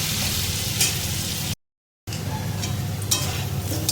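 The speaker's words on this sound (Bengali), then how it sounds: "আমার আলুগুলো দেখো লাল লাল করে ভাজা হয়ে গেছে" Potatoes fry steadily in hot oil in a pan while chicken kosa is cooked, giving a dense, continuous sizzle with light stirring scrapes, broken by a brief silent gap before the frying resumes.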